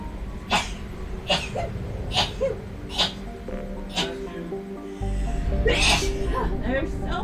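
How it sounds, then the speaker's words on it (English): Repeated sneezing, roughly eight sharp bursts at an irregular, rapid pace, mixed with coughs and breathy sounds, loud and close, with a steadier background hum setting in partway through. "There's so much sneezing!"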